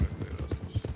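Horse hooves clip-clop in a quick, uneven rhythm at close range, a handful of low thudding footfalls over about a second with faint background noise.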